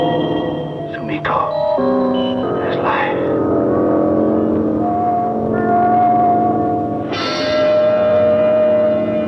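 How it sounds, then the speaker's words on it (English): Spaceship braking motors from a 1960 science-fiction film sound as a sustained, humming mechanical drone with bell-like tones and a swelling rise near the end, under brief dialogue. "The braking motors."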